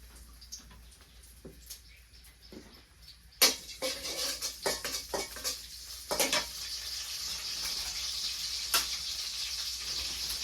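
Onions frying in oil for a vegetable curry: a few clinks and scrapes of utensils come first, then a loud, continuous sizzle takes over for the last several seconds, with no talking.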